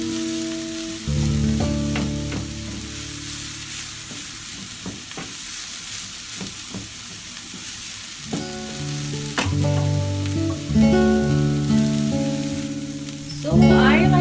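Red radish with its leaves fries in oil, a continuous hiss and sizzle broken by repeated clinks and scrapes of a utensil against the pan, growing louder near the end.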